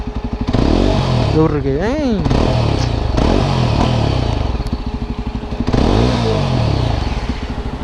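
The engine of a Yezdi Adventure motorcycle runs steadily at close range with a rhythmic thumping idle, swelling in a couple of brief revs, while someone talks over it.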